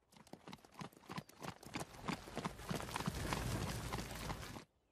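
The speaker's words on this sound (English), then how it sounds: "These horses are so slow." Horses' hooves clip-clop in a quick, steady rhythm, starting sparse and building into a denser, louder clatter before cutting off abruptly, with no talking.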